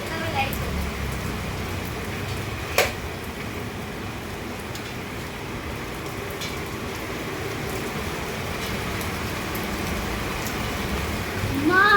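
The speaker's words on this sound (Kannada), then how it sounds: "ಮಳೆ ಎಷ್ಟು ಜೋರಿದೆ" Heavy rain falls steadily in Bijapur during a power cut, a continuous hiss of downpour with a few sharp knocks, under someone speaking.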